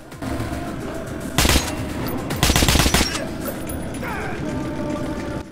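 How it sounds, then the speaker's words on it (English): A turret machine gun in Metro 2033 Redux fires two loud, rapid bursts over a constant engine-like drone, the second burst longer than the first. "this turret thing, we need to stay away from that, because that's going to kill... Oh my god, it's hitting us now."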